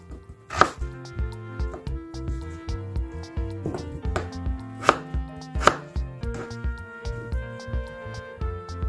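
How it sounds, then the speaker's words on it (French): Potatoes being cut into pieces with a knife on a board, a series of sharp irregular chops and thuds, close and clear, with some faint handling noise between cuts. "je viens découper en 3 selon la taille de la patate"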